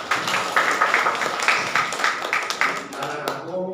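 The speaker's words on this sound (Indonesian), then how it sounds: "Tepuk tangan dong untuk kalian." An audience at a school student-council (OSIS) candidate speech event applauds the students: steady, dense clapping for several seconds with some crowd voices mixed in, fading slightly toward the end.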